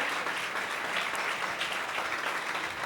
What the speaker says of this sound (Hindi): आइए जोरदार तालियां हम खुदावंद रूहुल कुद्स के लिए